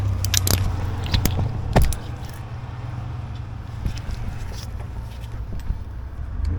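A metal socket drops in the engine bay of a C4 Corvette small block, with sharp clinks and clatters early on, then faint scrapes and small knocks as it settles.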